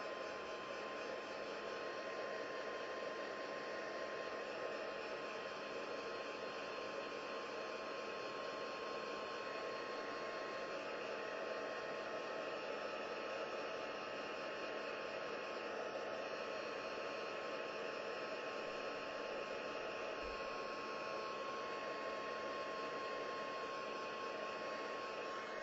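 A craft heat tool blows hot air over embossing ink dots, a steady close roaring hiss that holds level without a break the whole time, with no voices.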